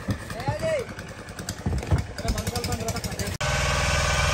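A boat engine putters steadily beneath people talking on Chilika Lake, Odisha, then the motor noise grows louder and more even toward the end.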